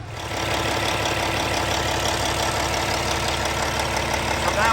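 The Cummins ISX engine of a Kenworth W900 idles steadily nearby, a continuous low diesel rumble with a faint knocking texture and no talk.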